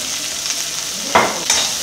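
Onions and green chillies sizzle in a pan for aloo masala, a steady hiss of frying broken by a few sharp scrapes and clinks of stirring, with no one talking.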